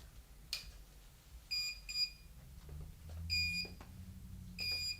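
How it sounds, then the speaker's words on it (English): A cell phone rings with bursts of high electronic beeping that repeat at intervals over a low background rumble, moderately quiet, with no one talking. "What's that noise? Oh, just my cell phone."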